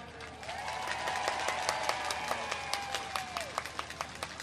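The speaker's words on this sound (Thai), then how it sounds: "ขอได้เสียงดังๆปรบมือ" Applause from a crowd at a Thai election campaign rally in Don Mueang, with dense overlapping claps that thin toward the end into separate sharp claps, mixed with a sustained tonal sound and faint background crowd noise.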